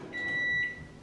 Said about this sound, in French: le micro-ondes va sonner